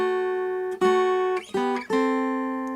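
A plucked guitar plays the closing phrase of a song, several ringing notes struck one after another with sustained decay, clear and close with no voices.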